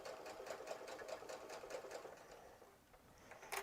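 A Brother CS6000i quilting sewing machine stitching a fabric mask runs in a steady rapid needle rhythm, close and fairly quiet, then slows and pauses near the end.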